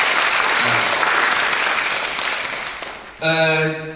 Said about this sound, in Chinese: 那我们就用热烈的掌声欢迎朱勇老师